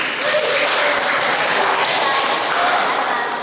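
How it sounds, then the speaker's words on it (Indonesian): A church congregation gives steady, close applause to welcome a new child at a Sunday service, filling the whole moment, with voices faintly mixed in. "Kita beri aplaus."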